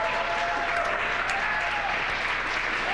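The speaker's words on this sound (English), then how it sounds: "I hear clapping." Steady applause from a crowd of spectators celebrating the Inspiration 4 crew's return to Earth, dense and continuous throughout without pause.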